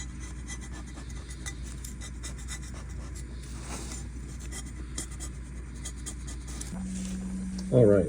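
A razor blade scrapes old gasket material off the differential casing of a Subaru BRZ / Scion FR-S / Toyota 86, a faint, steady rasping that runs throughout, ending with a brief louder clunk.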